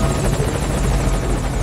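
A helicopter in the Metal Gear Solid Ground Zeroes video game gives off a steady, loud rotor drone with a dense low-end rumble and no breaks, with no talking over it.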